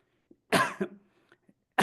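A single harsh cough, close and fairly loud, followed by a softer throaty rasp and a few small breathy noises.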